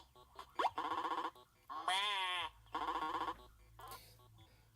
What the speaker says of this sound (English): I like the sheep sound effects.